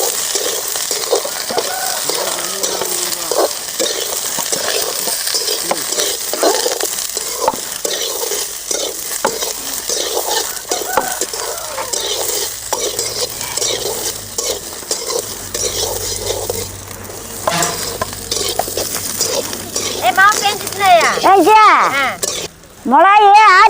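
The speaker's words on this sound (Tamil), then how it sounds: "பூவை நல்லா எண்ணெயிலேயே ஒரு வணக்க எடுத்துக்கணும்" Cauliflower florets sizzle in hot oil in a pan as a utensil stirs and scrapes them repeatedly, the frying crackle continuous and close, with a person talking intermittently.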